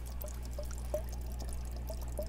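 Clogged filter in a turtle (red-eared slider) aquarium gurgling with large bubbles, a steady series of soft plops over a constant low hum, close and moderately quiet.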